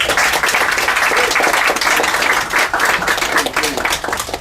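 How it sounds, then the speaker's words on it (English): A bookstore crowd at an author's book event claps loudly and steadily, a dense, even wash of applause that holds throughout without pause. "Please give a round of applause."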